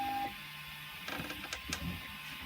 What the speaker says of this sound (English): I'm now going to try and print from the SD card